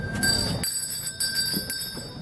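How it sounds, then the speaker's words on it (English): Chapel bells ring out at a holiday festival, their steady bright tones sustained over a muffled crowd murmur at moderate distance. "The bells ring in the chapel and everyone returns home"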